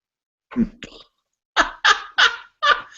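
A chicken makes a series of short, sharp clucks and squawks close by, two brief calls followed by four quicker bursts in a row, with silence between them.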